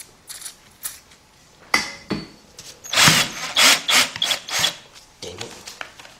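A larger drill bit grinds into metal during head gasket and timing belt work on a Honda Accord or Odyssey engine: close, rough bursts of rasping and chattering that build into a sustained run in the middle, with no talking.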